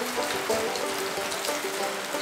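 Steady rain pours onto a home garden, a dense, even hiss of drops on leaves and surfaces continuing close and unbroken throughout.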